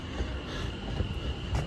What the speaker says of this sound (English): all I gotta do now is get on that train